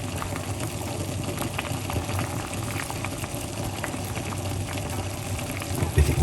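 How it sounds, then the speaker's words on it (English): Water boiling in a pot for garlic and lemon tea, a continuous bubbling and gurgling with a low rumbling hum beneath, close and steady throughout. "It's boiling a little bit, but that's okay."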